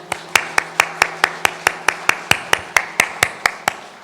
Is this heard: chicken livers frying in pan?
no